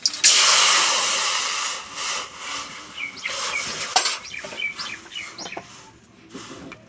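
Water poured into a hot wok after dry-roasting whole spices bursts into a loud, close hiss of steam that fades over a few seconds, followed by softer bubbling and a few clinks of utensils.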